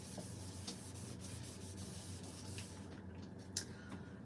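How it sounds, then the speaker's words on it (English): Quiet hissing bursts from an ink spray bottle over a soft rubbing background noise, with a small knock near the end. "So we spray it a little bit"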